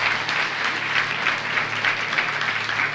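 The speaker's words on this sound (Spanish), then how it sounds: "denle un aplauso al Señor" A church congregation applauds steadily for about three seconds, a dense, even wash of clapping with no talk over it.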